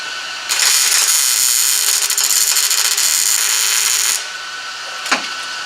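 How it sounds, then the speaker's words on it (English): A stud is welded on a VW Baja Bug: a loud, steady crackling buzz that runs for about four seconds, then stops, with one brief sharp tick shortly after. "All I'm doing is welding up the stud."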